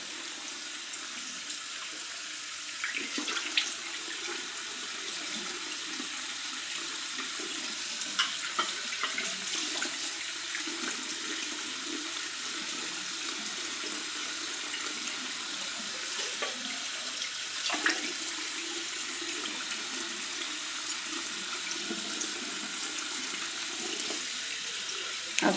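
A bathroom tap runs steadily while someone washes their face, a continuous bright hiss of water with small splashes and drips breaking through now and then, fairly close and with no voices.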